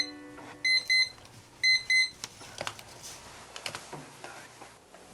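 A work timer set for twenty minutes rings with two pairs of bright electronic beeps, followed by scattered soft clicks and taps as work continues close by.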